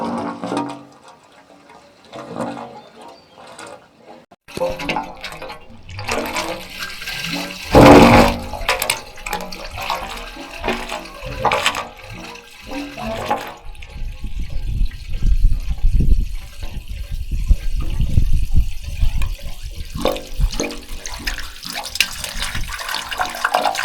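A solar-powered well pump pushes water through roughly 230 feet of pipe, climbing about 60 feet into a storage tank. Water gushes and splashes at fluctuating volume, growing fuller and louder in the second half.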